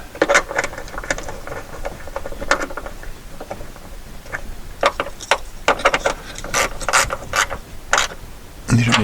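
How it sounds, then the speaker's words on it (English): A hand ratchet tightens the nuts on a VW Touareg rear wiper motor, making close, crisp clicking bursts in uneven runs with short pauses between them. "Tighten these nuts down."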